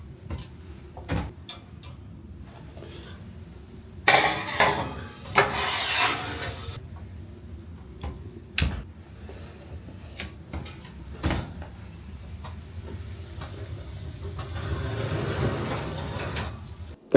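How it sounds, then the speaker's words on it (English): Crab cakes go into an oven preheated to 400 degrees: clattering tray handling, a burst of metallic rubbing and sliding as the rack and door move, then soft knocks and a low hum. "I'm going to take these, stick them in our preheated oven at 400 degrees"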